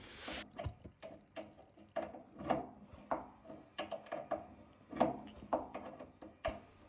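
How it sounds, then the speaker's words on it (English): Trickling, gurgling water drains through a hose from a leaking radiator drain-off on a Worcester Bosch boiler system, in irregular bursts, punctuated by sharp knocks and clicks, close by with no talking. "You can hear the water going out the hose"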